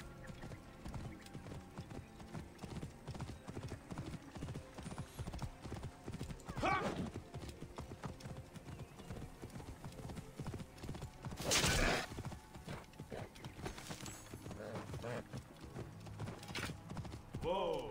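Steady clip-clop of horse hooves trotting in the video game Assassin's Creed Origins, rhythmic and close, with occasional louder whinnies and mechanical rattles over the top.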